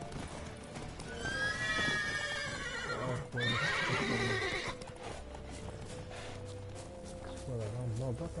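A horse in The Witcher 3 gives two loud whinnies over rapid hoof clip-clop as it gallops, with game sounds and a voice speaking over the action.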